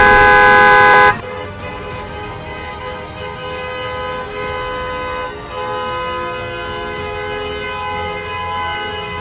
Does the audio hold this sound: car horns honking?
yes